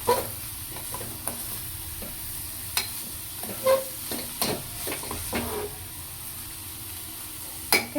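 Mustard seeds and a mixture being stirred and fried in a home kitchen pan, with a low steady sizzle broken by sharp scraping and stirring clacks at irregular intervals, close by and without talk.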